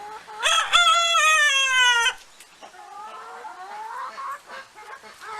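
Farmyard chickens on a motorcycle farm: a rooster crows loudly and close for about two seconds, followed by softer, drawn-out clucking and calls from hens nearby.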